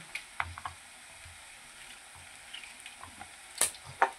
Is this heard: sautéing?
yes